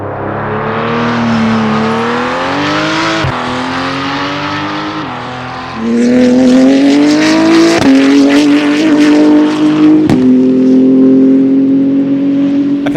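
Simulated race car engines in the racing game Project Motor Racing, heard from outside the car: loud, steady revving that climbs in pitch through the gears, with a shift partway through and continuous engine drone to the end.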